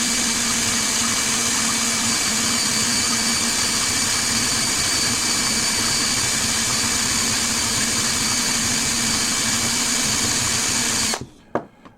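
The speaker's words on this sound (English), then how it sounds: "You will slowly grind that off." Power tool grinding down a homemade paracord fid, a loud, steady, high-pitched whine running for about eleven seconds before cutting off into a couple of clicks.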